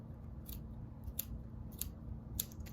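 Scissors snip through yarn while making a pom-pom, three or four crisp, faint cuts spaced about half a second apart over a steady low hum of room noise.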